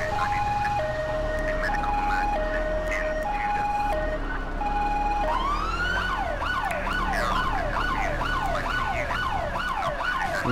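A British-style emergency vehicle siren in GTA IV with the LCPDFR mod, first a steady two-tone wail, then a fast repeating yelp, loud and close throughout with engine rumble beneath.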